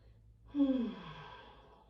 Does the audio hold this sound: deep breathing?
yes